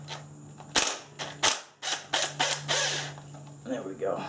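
Close, loud bursts from a cordless impact wrench hammering at a bolt during Subaru engine teardown, several short rattling pulses with brief pauses between.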